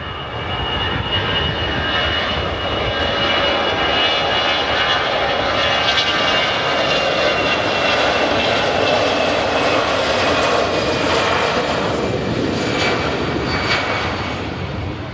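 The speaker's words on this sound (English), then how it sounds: "EasyJet rotates and begins to climb" An EasyJet airliner takes off and climbs, its jet engines producing a steady, loud roar that holds throughout without a break.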